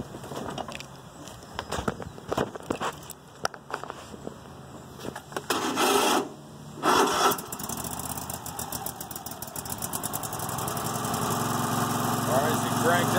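A riding lawn mower engine with a newly installed battery turns over and catches, then runs steadily, its drone building in level and holding loud and close toward the end, with scattered clatter and brief talk early on.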